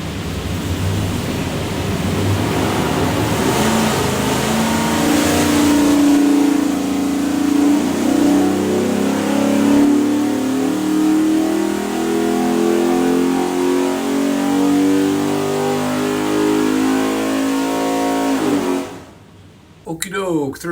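A 347 cubic-inch stroker V8 with a Hi-Ram intake and Terminator X fuel management, built for a '93 Mustang, pulls hard on a dyno run, its loud, steady roar climbing for about nineteen seconds before cutting off abruptly.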